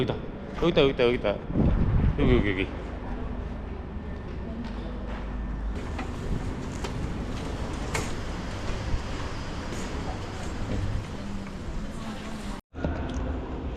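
Hot wind blowing outdoors in Doha, Qatar, a steady rushing buffet against the microphone throughout, with someone talking over it at the start.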